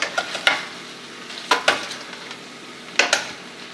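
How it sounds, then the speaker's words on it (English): Garlic butter chicken tossed and stirred in a hot sizzling pan, a soft steady sizzle broken by a few sharp clattering scrapes of the food and utensil, close and moderately loud. "let's toss this around a little bit, get that chicken all nice and tossed in this sauce here"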